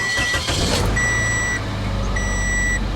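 A 2005 Toyota Corolla with a misfire cranks and starts, then settles into a low steady idle, with an electronic beeping chiming twice over the running engine, close by and without talk.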